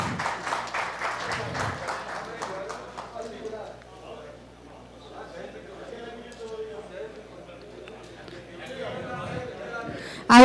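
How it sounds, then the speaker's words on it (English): An audience at a tax conference claps to welcome dignitaries to the dais, a short burst of rhythmic clapping at the start that fades under a speaking voice, with another rise of clapping near the end. "Let us welcome our dignitaries with a huge round of applause for the Brain Trust session"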